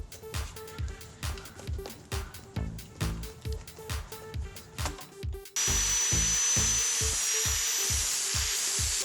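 A Dremel rotary tool grinds away at a Miata throttle body, first in short rhythmic bursts, then as a loud continuous high-pitched whine in the second half, close up with no talking.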